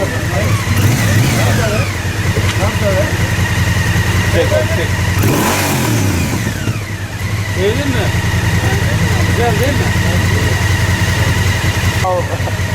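A motorcycle engine is revved with the throttle, its pitch climbing and falling in several loud, close surges over a running idle, while people talk nearby.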